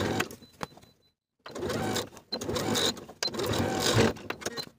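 A sewing machine edge-stitches the folded cuff of a Peter Pan collared blouse in several short bursts separated by brief pauses, fairly close and moderately quiet.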